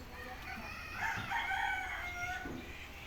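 A rooster crows once, fairly close, its long call rising and falling over a quiet background.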